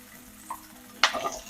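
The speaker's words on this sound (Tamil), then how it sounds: "இந்த வெங்காயம் கொஞ்சம் லைட்டாக வதங்கணும்." Onion and garlic hitting hot oil in a pan give a soft background hiss, then a sudden sharp sizzle burst as more goes in, followed by crackling that fades quickly.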